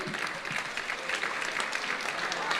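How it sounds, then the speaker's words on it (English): Audience at a cancer research charity dinner dance applauds comedy magician Anthony DiMasi, a steady wash of clapping that stays at an even level throughout without fading. "Round of applause for Anthony."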